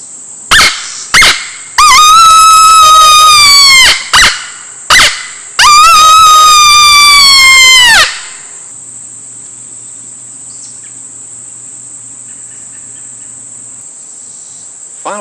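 Crow's Fork mouth-blown predator call imitating a coyote, giving several short sharp barks followed by two long wavering howls, loud and close, then fading into quiet background.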